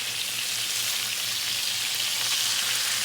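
Chicken fried steaks frying in a pan, a dense, steady sizzle with a faint low rhythmic pulse underneath, close and continuous with no voices.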